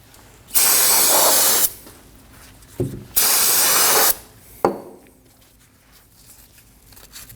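Brake parts cleaner hisses from an aerosol can onto a car's upper strut mount in two long bursts of about a second each, with a short spray between them and a brief final squirt, near and clear with no talk.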